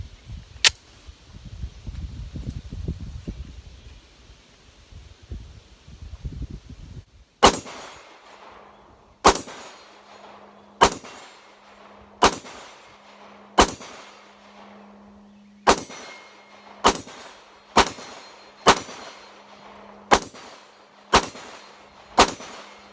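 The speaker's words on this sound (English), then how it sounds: "And that cheery ring you hear is a man-sized target at 17 yards." Repeated Glock 26 Gen 4 pistol shots at an outdoor range, each crack followed by the bright ring of a steel man-sized target at 17 yards; a dozen sharp reports at uneven intervals with a sustained metallic hum between, after a few seconds of rumbling handling noise.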